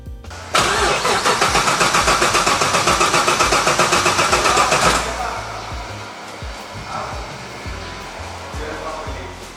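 Classic car engine cranking rhythmically for about four seconds with a rapid, loud starter chug, then catching and settling into a rougher, quieter running idle.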